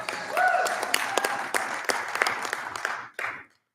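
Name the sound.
applause for the timekeeper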